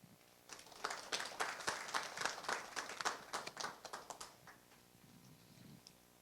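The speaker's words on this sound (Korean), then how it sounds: "대마 성분 의약품에 관련해서 발표해 주신 우영택 과장님께 다시 한번 큰 박수 부탁드립니다" Audience applause at a Korean food and drug safety public forum, a burst of clapping swelling after a presentation then tapering off, fairly distant and even, with no talk over it.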